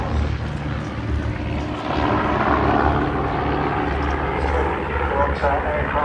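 Aerobatic display team aircraft sweep past at an airshow in a Delta formation underside pass, a steady loud engine roar under a commentator talking throughout.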